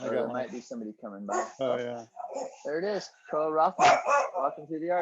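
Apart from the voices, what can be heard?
old dog barking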